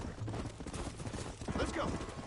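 Horse hooves clip-clopping in a western video game, a quick, faint patter of galloping steps blended with game ambience.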